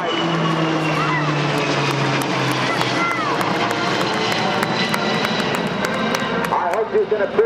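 A composite formation of military jets flies past at an airshow, a broad roar with a shifting tone that fills the scene, while a public-address announcer talks over it and the crowd is heard.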